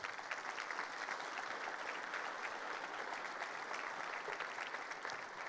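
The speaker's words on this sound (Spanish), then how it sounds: "Dale un aplauso al Señor." A church congregation claps steadily, a dense, even wash of applause that carries on throughout without voices, sounding slightly distant and soft.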